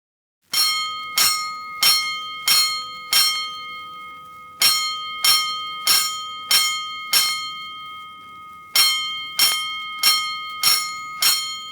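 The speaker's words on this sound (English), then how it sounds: "Five bells. Stand by all stations." Alarm bells at a fire station in a radio drama strike in rapid clanging groups, first four, then five, then five again, each stroke ringing with a bright metallic tone and sharp decay, loud and close with no voices.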